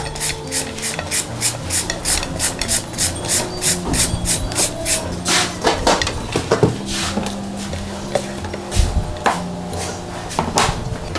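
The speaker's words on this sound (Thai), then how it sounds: "จะขูดส่วนของมะม่วงค่ะ" Mango scraped over a grater as a garnish for fried tofu with fish sauce, heard as steady, rhythmic rasping strokes close by with soft background music underneath.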